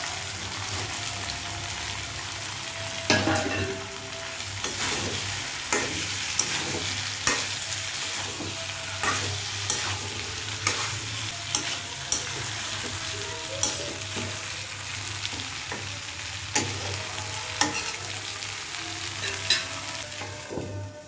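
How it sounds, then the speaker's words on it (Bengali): Fried potatoes braise with meat in a hot pan under a continuous loud sizzle. A spoon stirs and scrapes them in regular clanks and shuffles throughout, close up, and no one speaks. "এবার আলুগুলো দিয়ে দিব, ভেজে রাখা আলুগুলো দিয়ে আর একটু কষিয়ে নিয়ে"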